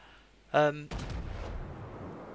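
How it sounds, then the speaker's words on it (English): Naval guns firing armor-piercing rounds from a Karlsruhe cruiser in World of Warships, a loud brief salvo followed by a rumbling boom and a lingering tail, with a short tonal game cue just before it. "Here are my first shots of the game, firing AP rounds"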